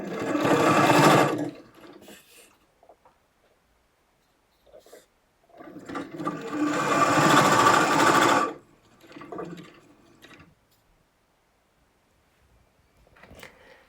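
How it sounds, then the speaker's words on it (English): A sewing machine stitches skirt pleats in two bursts of rapid, rhythmic chattering, the first short and the second about three seconds long, with quiet handling noises between them. "Now machine stitch within the seam allowance, and this just holds the pleat in place."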